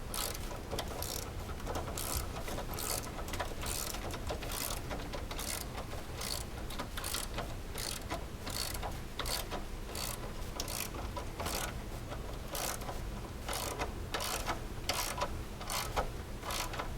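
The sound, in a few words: ratchet tightening rear mounts on Polaris General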